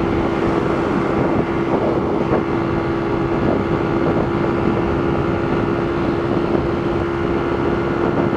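A small motorcycle rides along with a steady, continuous engine drone and a constant tonal hum, mixed with wind rush over the microphone, loud and unbroken throughout.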